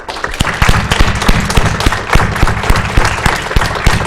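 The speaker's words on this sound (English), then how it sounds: "Please applaud these guys." Audience applause at a security conference, dense sustained clapping from a crowd at close range, loud and continuous.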